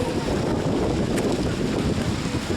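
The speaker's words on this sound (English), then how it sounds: "A little windy, a little rainy, definitely getting colder." Loud, steady wind buffets the microphone with a low, rumbling roar throughout, with no voices.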